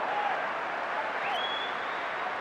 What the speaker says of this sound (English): getting some applause from the fans for that reaction to him falling over there.